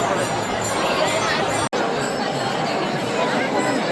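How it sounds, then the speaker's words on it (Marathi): A huge crowd gathers outside the Shrimant Dagdusheth Halwai Ganpati temple in Pune to watch the palkhi procession, producing a dense, steady roar of mingled voices and chatter with one brief cut partway through. "पालखी बघण्यासाठी पुणेकरांचा जनसागर जमा झाला होता"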